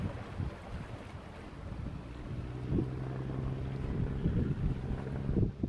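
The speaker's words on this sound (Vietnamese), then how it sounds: "Đều là những chiếc ghe có máy công suất rất là cao, chạy với tốc độ rất là nhanh luôn." High-powered fishing boats race across the open sea off Phu Quy island, a steady low engine drone under rushing wind and water noise, fairly close and with no voices.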